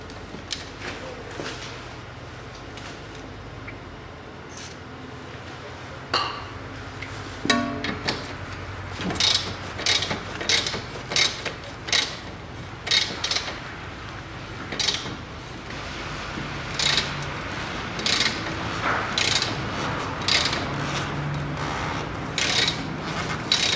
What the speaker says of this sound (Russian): Все, гайка открутилась.